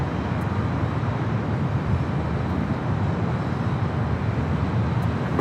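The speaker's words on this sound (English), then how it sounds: "Up next, Virgin A350-1000, the flight 7 coming in from London Heathrow" A Virgin Atlantic Airbus A350-1000 arriving from London Heathrow makes a steady, low jet roar at a distance, constant and unbroken throughout, with no voices.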